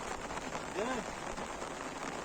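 Heavy rain pours down on a farm with fish ponds: a dense, steady roar of drops hitting the surface, close and loud throughout, with a brief faint voice-like sound in the middle.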